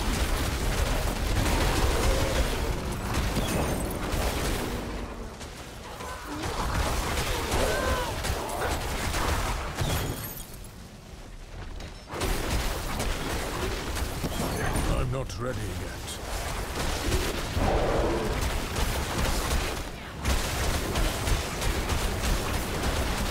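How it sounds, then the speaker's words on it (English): Explosions and gunfire-like blasts from the Diablo IV video game, dense and continuous with repeated bursts, a brief lull near the middle, and a voice talking over the action. "Explosion."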